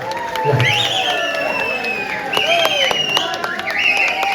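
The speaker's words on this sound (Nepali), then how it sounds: "सबैजनाले ताली बजाइदिनुहोस् है सबैजनालाई।" A crowd at a Harka Sampang political rally cheers, claps and whistles, with shrill rising whistles and hooting over a steady roar of clapping and babble.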